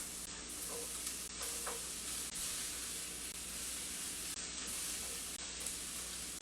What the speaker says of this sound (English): So I'm just sauteing the onions. I'm going to add my peppers.